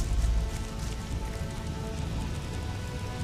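Steady rain falls in the fantasy role-playing game ELEX, a dense continuous hiss of drops on surfaces at even loudness with no voices.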